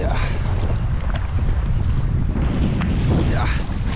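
Strong wind buffets the microphone on Lac de Gruyère while packrafting on choppy water, a steady loud roar with low rumble and gusts throughout, no talk.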